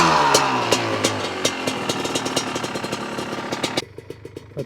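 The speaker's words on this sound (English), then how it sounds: "Definitely has less noise in that engine." A Honda 250R engine idles close by with a rapid, even popping beat. After a rebuild that cured piston slap, it sounds steady and fairly clean, then drops abruptly in level near the end with no talk over it.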